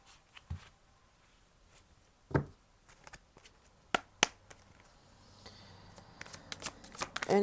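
Oracle cards being shuffled by hand in a quiet room, soft riffles and sharp snaps spaced irregularly, getting busier toward the end, close and fairly faint, with no talk.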